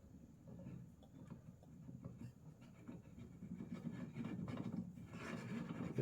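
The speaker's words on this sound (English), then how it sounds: "I got the lapping compound in between my tool face and the face of the receiver." A lapping tool with lapping compound works against the face of an AR-10 receiver, making quiet, close, uneven gritty rubbing and scraping that builds slightly toward the end.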